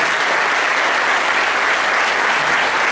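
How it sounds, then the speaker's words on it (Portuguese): Steady, dense applause from a church congregation fills the space evenly, loud and continuous with no pauses or voices standing out. "Vamos dar um aplauso para Jesus."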